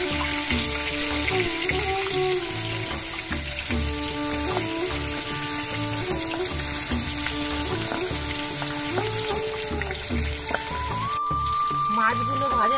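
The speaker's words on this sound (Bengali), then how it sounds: "মাছগুলোর এক পিঠ কিছুক্ষণ ভাজা হয়ে যাওয়ার পর মাছের পিসগুলো আমি উল্টে দিচ্ছি।" Pieces of rohu fish being turned and fried in hot oil, giving a steady, soft sizzle and crackle that runs the whole time beneath kitchen background sounds.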